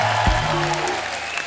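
Loud applause from a comedy talk show studio audience greeting a guest, a brief burst of clapping with a low thump near the start, then a dense steady wash.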